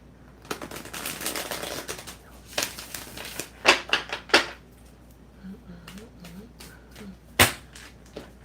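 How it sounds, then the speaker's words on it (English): Tarot cards shuffled by hand in a series of crisp riffles and sharp snaps, close and fairly loud, with quieter handling in between. "One more good shuffle."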